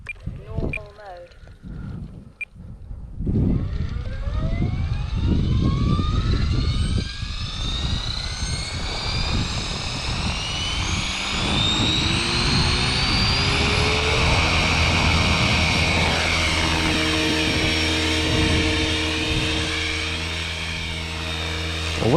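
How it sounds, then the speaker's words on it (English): A TRex 500 XT radio-controlled helicopter on its first flight spools up after a few quiet seconds into a loud, steady rotor and motor whine with rising pitch, sustained throughout, while someone talks over it. "TRex 500 XT maiden flight."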